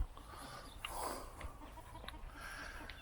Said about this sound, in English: These are hens. Cockerels.